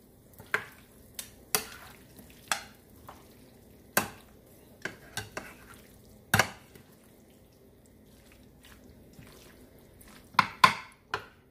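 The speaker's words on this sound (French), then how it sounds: "Je vais les mélanger. Et je mélange le tout." Soft grilled vegetables are mixed in a bowl for tchaktchouka ratatouille, producing a string of separate wet clacks and squelches from the utensil, irregularly spaced and close, against near silence.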